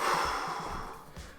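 A single deep breath drawn in during a beginner full-body, no-equipment workout: a short, close, airy rush that fades over about a second, with no talking.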